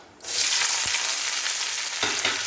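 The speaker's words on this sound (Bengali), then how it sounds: "এবার একে একে কাজু কিশমিশগুলো দিয়ে দেব।" Cashews and raisins dropped into hot ghee in a pan with bay leaf and whole garam masala, setting off a loud, close, continuous sizzle that bursts in and holds steady, with no speech.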